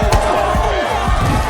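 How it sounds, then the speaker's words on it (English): A dense fight club crowd roars and cheers continuously, loud and close, with shouting voices and sharp thuds punching through the steady din. "amid the noise of cheering fans and the lively energy of the crowd"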